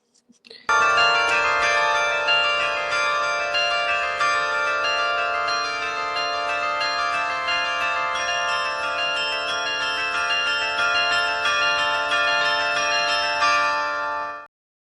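A costumed street performer plays a set of bells, ringing tones starting abruptly and sustaining in a rich, steady chime for about fourteen seconds before cutting off.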